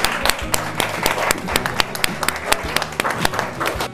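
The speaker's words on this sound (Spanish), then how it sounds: "Así que realmente un aplauso para ella" Audience applause at a community club gathering in Barrio Belgrano, steady dense clapping that carries on for the whole stretch, with sharp individual claps standing out from a thick background of hands.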